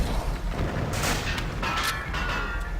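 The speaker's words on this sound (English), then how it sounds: "Explosions!" Explosions from the video game Deus Ex burst with dense, loud booms and crackling blasts over about three seconds, forming a continuous roar of gunfire-like detonations.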